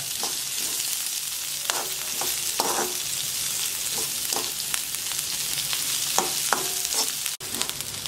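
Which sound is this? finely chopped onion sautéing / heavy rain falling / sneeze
finely chopped onion sautéing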